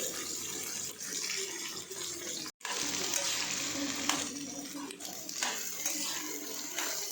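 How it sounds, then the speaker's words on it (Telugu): Green chillies and tomato pieces fry in a pan for a dosakaya chutney with a steady, moderate sizzle, broken by a brief dropout and a few scraping stirs, close by with no talking. "అలాగే రుచికి తగినన్ని పచ్చిమిరపకాయలు వేసి బాగా ఫ్రై చేసుకుందామండి."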